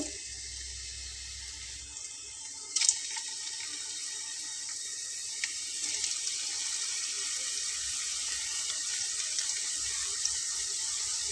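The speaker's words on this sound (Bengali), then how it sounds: "তেল গরম হয়ে গেলে চুলার আঁচটাকে একটু লো করে নিতে হবে। তারপরে আমি একটা একটা করে দিয়ে নেব।" Potato roll samosas frying in hot oil over a lowered flame give a steady, close hiss of bubbling oil, with a few small crackles and pops, and no talk.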